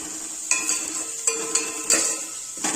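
Vegetables with carrot for manchow soup are stirred in a pot over a medium-low gas flame, with a gentle sizzle under sharp, regular metallic clinks of a spoon against the pan.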